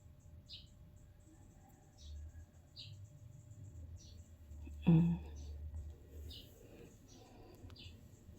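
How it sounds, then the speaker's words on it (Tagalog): Birds chirp outdoors in short, faint, evenly spaced tweets, with soft low voices murmuring underneath. "Maraming ibon sa labas. Naglalaro yung mga ibon."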